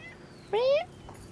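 A house cat gives a single short, rising meow close by against a quiet outdoor background.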